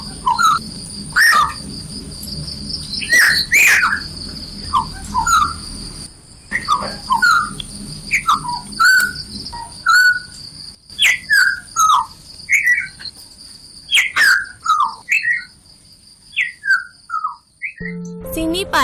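Sakhiyati bird calling loud and close, a long series of sharp, rising whistled phrases repeated with short pauses, over a steady high insect drone.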